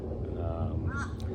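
Crows cawing outdoors, a few short harsh calls in the middle of a brief stretch, set against steady low background rumble.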